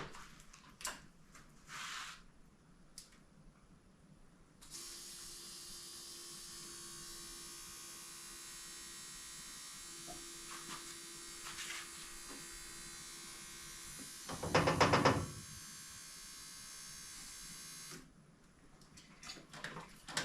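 Fuel pump on a Jeep Wagoneer being revived after sitting hums with a steady electric whine for about thirteen seconds, fairly faint, with a short louder rattle near the end before it shuts off.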